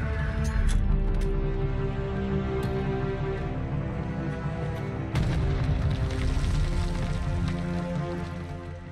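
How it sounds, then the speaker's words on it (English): A grenade explodes in Modern Warfare 2 on the Shoot House map in Search and Destroy, a loud boom under game sound with a sharp blast midway and a noisy, rumbling tail. "You're going to aim up and throw your nade over."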